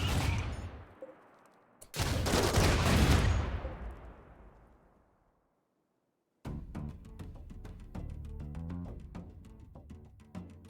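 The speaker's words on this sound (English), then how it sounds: "the turrets are doing good work here" Turret gunfire in the Rimworld video game, heard as a dense volley of rapid shots, then a lull with fading echo, then a steady stream of sharp repeated cracks.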